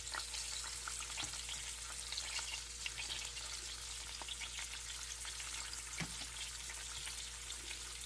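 A vegan sandwich filling simmers and sizzles in a pan on an RV stove, a low steady crackle with occasional stirring scrapes and small pops, no talking.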